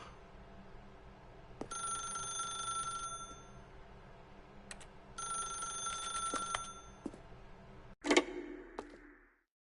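Telephone ringing in The Stanley Parable video game: two long bursts of a bright bell ring, each lasting about two seconds with a pause between, over a low room hum, followed near the end by a short clatter as the receiver is picked up.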